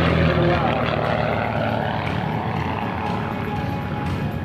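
Aerobatic propeller airplane performing climbing turns at a naval air station airshow, its engine droning steadily and fairly loud throughout, with a commentator talking over it.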